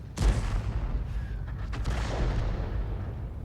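A 24-centimeter howitzer in a tank video game fires a single sharp boom that rolls off into a long, low rumble, with no talk.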